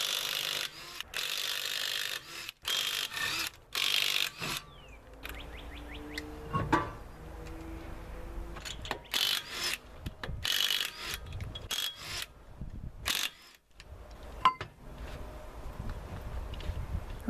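Lug nuts coming off the front wheel of a 1996-2000 Honda Civic with a 21mm socket, worked on the ground: scattered ratcheting clicks, metallic scrapes and clunks in irregular bursts, close and fairly quiet, with brief pauses.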